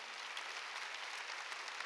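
A church congregation applauds steadily throughout a Sunday worship service, a soft, even wash of many hands clapping at a distance with no voices on top.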